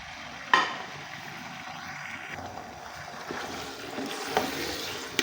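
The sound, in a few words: chicken frying in hot oil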